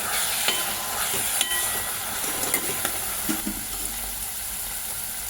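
Moong dal being stirred into dill greens frying in a pan, a steady sizzle under repeated light scrapes and clinks of a spoon against the pan.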